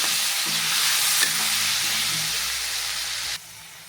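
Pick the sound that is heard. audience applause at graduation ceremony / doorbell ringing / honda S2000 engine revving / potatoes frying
potatoes frying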